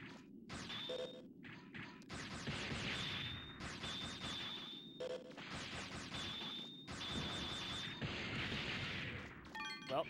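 Repeated bursts and crashes of bomb blasts in the video game Mega Man Legends, loud percussive booms with whooshing debris recurring over several seconds amid busy game effects.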